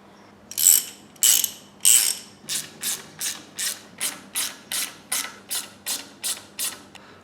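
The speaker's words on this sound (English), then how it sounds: "now it's just time to bolt it all up." A ratchet tightens bolts on a Toyota MR2 water pump: three loud, sharp ratcheting bursts, then a steady run of about a dozen quicker, evenly spaced clicking strokes, close up with no talking.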